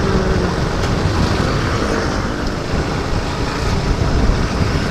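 Dense spray and rushing water roar steadily at the open Mettur Dam falls near the bridge, a loud continuous wash with wind buffeting, no voices.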